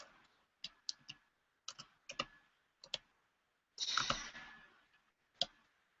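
A computer keyboard is typed on in short, close, crisp bursts of clicks separated by pauses, with one longer, denser flurry of keystrokes near the end of the clip.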